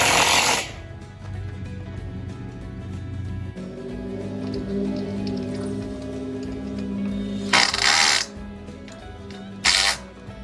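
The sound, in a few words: power drill driving self-drilling metal screws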